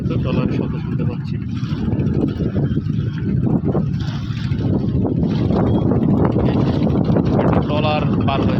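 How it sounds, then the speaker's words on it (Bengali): A trawler boat's engine on the Padma river passes close by, a steady loud low drone mixed with heavy wind buffeting on the microphone, while someone talks over it throughout. "একটা ট্রলার দেখতে পাবো আমরা, হয়তো ট্রলারের শব্দ শুনতে পাচ্ছি।"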